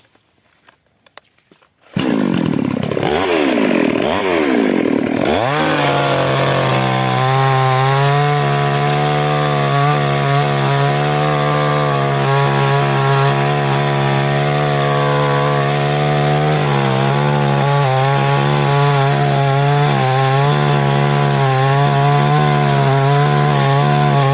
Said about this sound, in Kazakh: Кимде бензопила болгон болсо, бензопиланы аласыз.